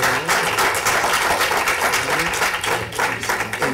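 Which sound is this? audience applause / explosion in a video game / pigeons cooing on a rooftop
audience applause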